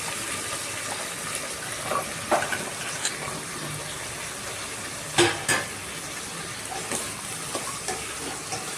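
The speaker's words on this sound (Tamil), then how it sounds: "வதக்கிக்கலாம்." Chopped tomato, carrot and beans sizzle gently in a pot as they are sautéed for cooker sambar, with soft continuous frying and occasional scraping stirs up close, no talking.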